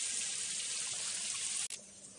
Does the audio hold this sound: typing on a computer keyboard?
no